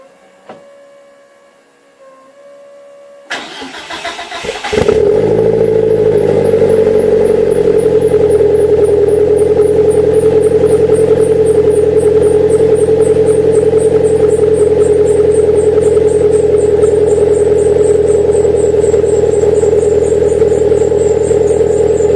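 A 1991 Eagle Talon TSi sits quiet at first, then its engine cranks and catches after a few seconds. It settles into a loud, steady idle with a constant hum and a high whine above it, running on to the end.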